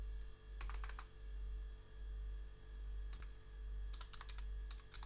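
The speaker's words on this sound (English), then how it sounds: "I just type host.example.com" Fingers type on a computer keyboard in short bursts of quick clicking keystrokes, close and clear over a low steady hum, with no speech.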